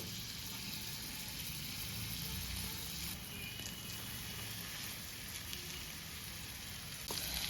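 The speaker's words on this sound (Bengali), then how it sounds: "এবার এক এক করে চিকেনগুলো আমি এতে ছেড়ে দেব।" Chicken pieces sizzle in melted butter in a pan over a low flame, a faint, steady frying hiss heard alone with a few small clicks.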